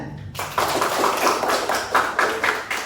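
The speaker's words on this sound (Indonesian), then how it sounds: "Tepuk tangan nak?" A class of students in an Islamic religious education lesson claps hands together, a rhythmic, patterned burst of clapping that starts suddenly and pulses in regular groups, loud and close in a classroom.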